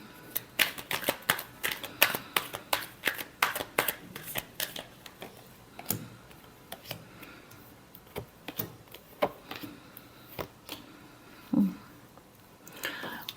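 A deck of tarot cards gets a long shuffle, with dense bursts of crisp papery flicks and slaps up close, thinning to scattered softer riffles and a few soft handling knocks toward the end.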